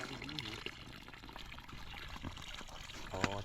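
Water pours into a container at home, a steady liquid trickle blended with background noise and voices nearby.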